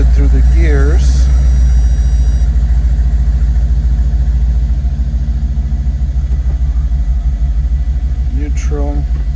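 A Mercedes engine with a 7G-Tronic 722.9 automatic transmission idles loudly and steadily up close as the gears are shifted. The low rumble stays even throughout, and a voice speaks briefly near the start and end.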